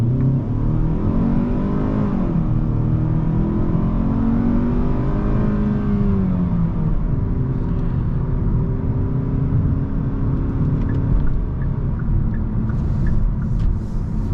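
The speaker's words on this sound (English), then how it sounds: "So the car is in sport mode. Let's go ahead and do an acceleration right here." A 2023 Hyundai Sonata with an 8-speed automatic accelerates hard in sport mode, heard from inside the cabin. The engine note climbs in pitch, drops with a downshift, then rises again over steady road rumble.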